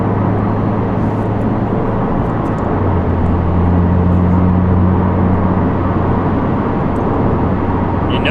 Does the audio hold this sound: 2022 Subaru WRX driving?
yes